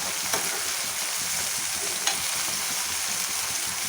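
Tomatoes cook in oil for a ridge gourd curry, giving a continuous close sizzle and frying hiss with a couple of faint stirring clicks.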